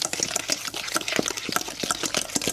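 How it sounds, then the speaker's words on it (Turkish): A spoon stirs cocoa cookie dough in a pan, giving close, irregular scraping and squelching strokes in a quick rhythm, with no talking. "Güzelce karıştıralım."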